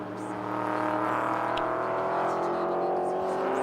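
Race car's engine drones steadily and loudly as it rolls into the pit lane at Sydney Motorsport Park during a Motorsport Australia Trophy Series round, a sustained mechanical roar with no break.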